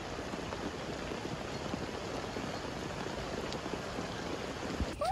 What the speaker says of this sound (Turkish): şimdi biz böyle oturuyoruz şezlonglara çünkü yağmur başladı